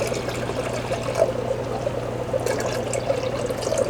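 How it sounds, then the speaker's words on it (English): Water carrying brine shrimp eggs is poured into a hatching system, making a steady close trickling, splashing stream that runs for a few seconds without talk. "So just pour this in."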